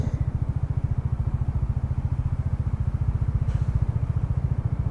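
Bajaj Dominar 400 motorcycle engine thrumming steadily in slow city traffic, a close, even low pulsing throb that holds for several seconds with no voices.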